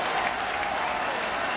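A capacity stadium crowd at the 2018 Miami at Toledo college football game roars and applauds in a dense, sustained wall of cheering.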